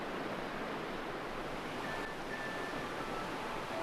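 Water from a mountain stream rushes down Cheonbuldong valley, tumbling over small waterfalls in a steady, broadband roar that stays constant and fairly loud throughout, with no voices.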